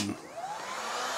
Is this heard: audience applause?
no